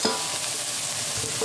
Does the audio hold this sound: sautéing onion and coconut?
yes